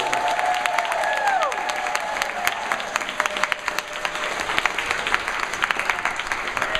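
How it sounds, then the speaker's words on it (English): Crowd at a community activism New Year event applauds the First United Methodist Church, a burst of dense clapping with a few cheers that thins toward scattered claps near the end. "Let's give a round of applause for the First United Methodist Church"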